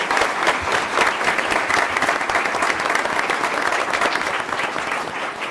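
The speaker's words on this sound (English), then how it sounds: "how about a huge round of applause for all of our UIL coaches for all their time" A boardroom audience at a school board meeting gives UIL coaches a big round of applause, dense steady clapping from many hands lasting several seconds before tapering slightly near the end.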